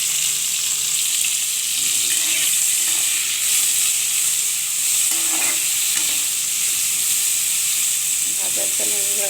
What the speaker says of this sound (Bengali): এখন এটাকে ভালো করে ভেজে নিতে হবে।